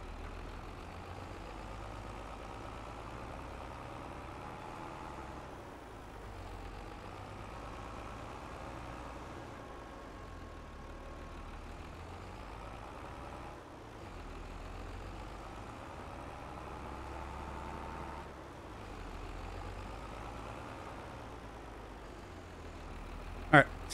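A tractor engine in Farming Simulator 22 runs steadily at a low, droning idle-to-working pitch throughout, with someone talking over it.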